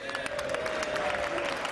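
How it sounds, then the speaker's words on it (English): Applause from the assembled chamber in the U.S. Capitol as the President's Cabinet enters Congress for a presidential address, a steady dense patter of many hands with a sustained tone running underneath. "that is the applause for the President's Cabinet"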